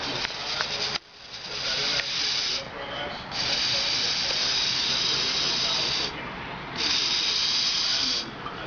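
Steady airy hiss of suction drawn through a KM Beast hookah hose, with the bowl filled halfway to the silver bar, running in long continuous pulls with two brief pauses.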